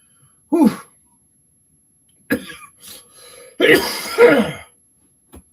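A person coughs and clears their throat in several short bursts separated by pauses, close and fairly loud, with no talking.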